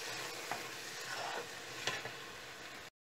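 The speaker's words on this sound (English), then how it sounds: "Now let it fry in it till it becomes" Tomato mixture from a tin frying in a pan, a steady close sizzle with a few stirring scrapes, then a brief cutoff near the end.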